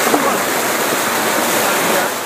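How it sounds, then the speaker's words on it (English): Water rushing through pipes at a weir under construction at a tropical field research station, a loud steady broadband roar close by with no break. "all the water is coming through these pipes instead of over the top"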